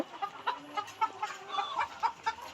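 Hens on a Bangladeshi layer farm cluck close by, several birds giving short, overlapping calls in a rapid, uneven rhythm.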